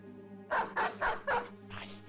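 War dogs barking in the medieval tactics game Battle Brothers, a run of four sharp barks in quick succession followed by a softer fifth, close and clear over a faint background hum.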